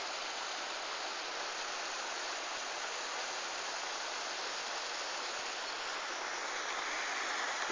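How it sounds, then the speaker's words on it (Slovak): Turová waterfall pours in a steady, dense broadband rush, continuous and close, with no talking over it. "A tento krásny vodopád sa tu nachádza."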